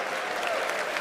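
At the Red Bull Wololo Londinium Age of Empires tournament finals, a crowd applauds and cheers in a dense, continuous burst of clapping.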